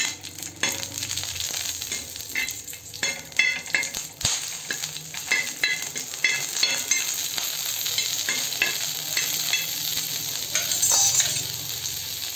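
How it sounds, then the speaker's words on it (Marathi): Green chillies roast in hot oil in a pan, a steady loud sizzle broken by frequent sharp crackles and spatters, with occasional stirring scrapes, no voices. "भाजून घ्यायचं तेल टाकून"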